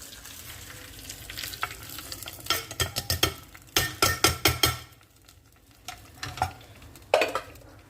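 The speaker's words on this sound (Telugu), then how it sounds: "పప్పు తాలింపుకున్నాను. మెంతులు, జీలకర్ర, ఆవాలు, వెల్లుల్లిపాయలు." Dal tempering of fenugreek, cumin, mustard seeds and garlic fries in hot oil in a pan, sizzling with bursts of sharp crackles and popping clusters, close and lively, without talk.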